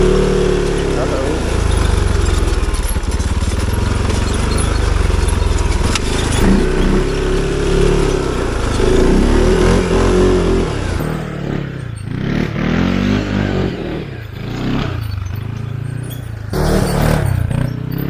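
An ATV without fenders is ridden, its engine giving a loud, continuous rumble that rises and falls amid wind and rattling, with a voice talking over it at times.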